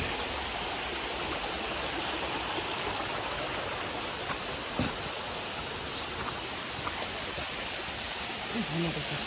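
A small waterfall in a forest of Buxa Tiger Reserve, heard as a steady, dense rush of falling water filling everything, with faint voices and a few brief knocks beneath the roar.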